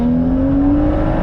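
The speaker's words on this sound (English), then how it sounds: "And some beautiful exhaust." Straight-piped BMW M2 exhaust droning loudly from inside the car on a country road, a sustained engine tone rising slightly in pitch as it pulls under throttle.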